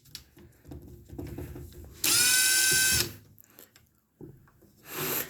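A Ryobi P238 impact driver running at speed 1 while driving leg screws, a loud whine for about a second amid quieter handling sounds, then a second shorter burst at the end.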